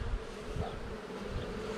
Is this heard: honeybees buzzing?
yes